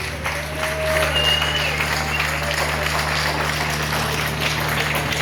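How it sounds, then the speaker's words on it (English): Audience applause breaks out at an evening interview session during the Honda Festival at Cadwell Park race circuit, honouring motorcycle racer Mick Grant. It is a steady wash of clapping that lasts the whole stretch over a low background hum. "I want at this point a round of applause for Mick Grant"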